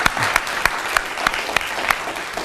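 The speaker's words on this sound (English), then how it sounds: "So let's give them another round of applause." A symposium audience at a university applauds students after a panel, a moderately loud, dense burst of clapping with distinct sharp claps, continuous for the whole stretch.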